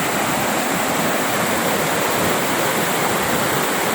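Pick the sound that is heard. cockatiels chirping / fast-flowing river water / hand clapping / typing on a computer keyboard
fast-flowing river water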